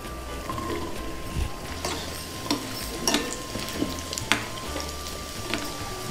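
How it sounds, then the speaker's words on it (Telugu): Raisins frying in a pan, likely in ghee, while cooking pesarapappu payasam, a gentle continuous sizzle with light pops and occasional stirring scrapes close by, with no talk. "కిస్మిస్ వేగింది"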